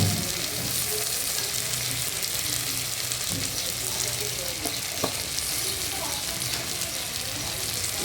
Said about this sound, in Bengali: ভালো করে কষাবো, কষিয়ে তারপর দেবো জল।